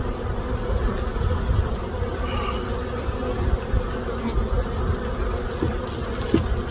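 Honey bees hum and buzz around an opened hive during an early-season inspection, a dense steady drone close by with individual bees flitting past, and no talk.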